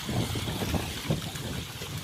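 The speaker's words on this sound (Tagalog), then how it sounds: "Kabagat yung hangin oh." Strong typhoon wind on Burias Island roars steadily, buffeting the microphone with low rumbling gusts, with no voices.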